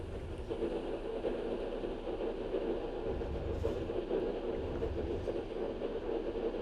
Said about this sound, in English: the sound in the diesels is awesome